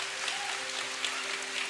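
Brief burst of crowd applause at a Catholic prayer gathering, a dense, even patter of clapping over sustained musical tones.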